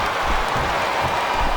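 A wrestling arena crowd in WWE SmackDown vs. Raw 2007 applauds in a steady, loud wash of clapping and crowd noise with no clear voices.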